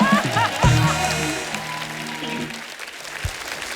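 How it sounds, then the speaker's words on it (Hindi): Applause from a comedy show studio audience rises in a dense burst, then thins and fades while music and voices carry on underneath. "जोरदार तालियां हो जाए एक बार शबीर भाई के लिए, अल्ताफ भाई के लिए, सुनीता जी के लिए और श्वेता जी के लिए"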